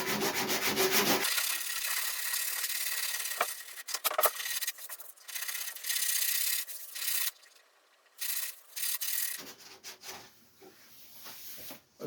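Block sanding high build primer with 120 grit sandpaper on a Ford Escort MK1 body, close, loud rhythmic rasping strokes broken by short pauses, with quieter intermittent scraping later.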